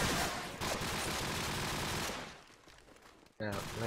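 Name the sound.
gunfire in Promod video game match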